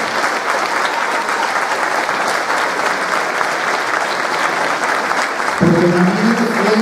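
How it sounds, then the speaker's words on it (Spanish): Loud, steady applause from a large audience at a Christmas gala for a television station, filling the hall continuously; near the end a voice begins speaking over the clapping. "yo pido un fuerte aplauso para Daniel por el trabajo"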